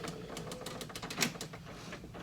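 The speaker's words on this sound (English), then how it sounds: "Now my printer's going." A printer runs nearby, a quiet mechanical ticking and whirring with a rapid, uneven chattering rhythm, heard alone at low level.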